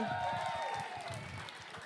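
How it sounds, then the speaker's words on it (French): A crowd applauds a group at a manor in Beauharnois, a steady wash of clapping that fills the short moment, with a voice faintly heard over it. "On applaudit la gang du manoir de Beauharnois qui nous accueille."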